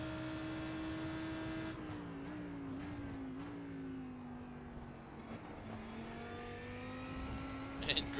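A Lamborghini race car lapping Circuit de Barcelona-Catalunya, a sustained engine drone whose pitch shifts and climbs as the car accelerates, heard steadily throughout with a few faint knocks near the end.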